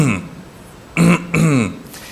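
Someone clears their throat in a short demonstration: a brief raspy burst, a pause, then two quick voiced clearing grunts close to the microphone.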